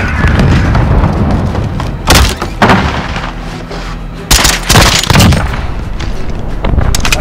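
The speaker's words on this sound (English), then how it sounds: "I can't believe I got a kill with an EMP gun" Gunfire from an EMP gun in Call of Duty: Modern Warfare (2019) during a Search and Destroy match, with several sharp, loud bursts standing out over constant game noise and background sound.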